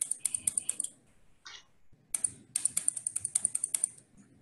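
Rapid keystrokes clatter in quick bursts on a typewriter-like computer keyboard, with a short pause in the middle before the fast tapping resumes, fairly close and without talk.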